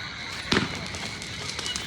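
Firecrackers burst at night outdoors during a Bhau Beej festival celebration near a stadium, with one sharp, loud crack standing out above crowd noise and chatter, followed by fainter pops in the background.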